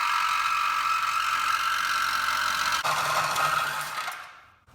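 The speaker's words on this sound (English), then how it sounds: "I'm cutting this. I got the Sawzall." A Sawzall reciprocating saw cuts through metal while a turbo downpipe is fitted to a DA9 Integra, a steady buzzing rasp that runs loud and close, catches briefly midway, then winds down and stops at the end.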